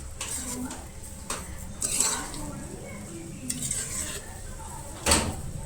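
Sugar and dry fruits being stirred into Goan sweet rice (sakhar bhaat) in a pot, with scraping spoon strokes and clinks over a soft cooking sizzle, including a sharper knock near the end.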